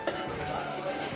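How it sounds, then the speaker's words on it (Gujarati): Small potato pieces tumble into a pan of sizzling masala rice, giving a brief scrape and a steady frying hiss over about a second, with no one talking. "બટેટાના પીસ નાના નાના કર્યા છે ને એને ઉમેરી દેશું આ રીતે"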